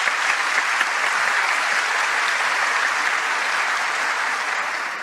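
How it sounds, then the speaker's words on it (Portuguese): A continuous wash of audience applause at a talk, dense and loud, sustained evenly with no speech over it. "Eu tinha certeza que ia ganhar essas palmas."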